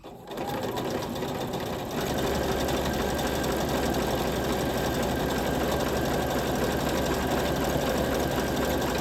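A sewing machine stitches an overcast edge, starting after a short pause and then running fast and steady with a rapid mechanical chatter, close up and alone.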